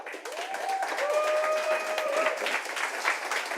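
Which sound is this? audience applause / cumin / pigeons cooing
audience applause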